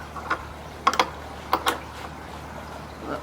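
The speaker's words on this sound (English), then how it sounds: "Spanner. Tighten it all the way around." Spanner tightening bolts on pergola brackets at a koi pond build, heard as a few short metallic ratcheting clicks in small clusters, fairly close, over quiet outdoor background.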